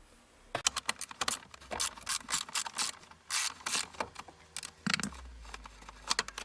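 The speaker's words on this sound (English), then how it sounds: "Take off this bolt from the steering column." A 13mm ratchet wrench turns a steering column bolt on a BMW E34, giving quick, close, clicking ratchet bursts in a steady rhythm for several seconds, with no talking.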